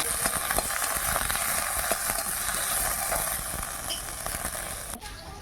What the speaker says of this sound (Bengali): প্রথমে নিম পাতাগুলো ভেজে নিচ্ছি আর নিম পাতাগুলো খুব বেশি ভাজবো না হালকা করে নিম পাতাগুলো ভাজবো